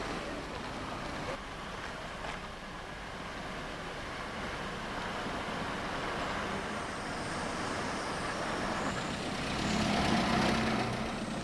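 A 1929 Leyland Lion single-deck bus with a 31-seat body rumbles past at a steady, moderate distance, its engine drone swelling slightly toward the end against a continuous background of road noise.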